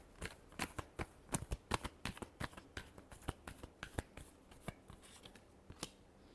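Tarot cards being shuffled by hand, a run of sharp, quick riffling snaps in an uneven rhythm, close and fairly quiet with no voice over them.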